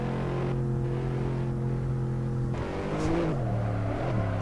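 A Nissan Skyline engine in the Assetto Corsa racing game pulls steadily under acceleration, a continuous droning tone that climbs slightly toward the end, loud and close without any talking.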